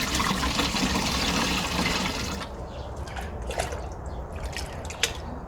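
Rice water pours into a container already half full of water, meant for watering plants. A steady gush runs for about two seconds, then gives way to faint drips and trickles.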